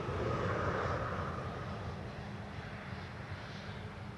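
An Air Canada airliner lands at Schiphol in a steady, loud jet roar that is strongest at the start and eases slightly as it carries on, with no voices over it.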